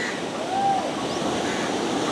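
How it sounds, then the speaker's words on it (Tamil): Steady rushing water flows continuously through a village irrigation channel, a broad wash of noise close by with a faint whistle-like tone drifting through. "இதில் பாருங்க அப்படியே விவசாயத்துக்காக வாய்க்காலில் அப்படியே தண்ணி போய் கொண்டிருக்கு"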